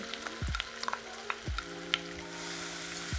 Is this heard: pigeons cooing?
no